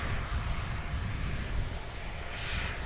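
A fixed-wing airliner taxis off the runway at Dublin Airport after an apparent rejected takeoff, with a possible hydraulic leak; its engines give a steady, broad, distant roar throughout.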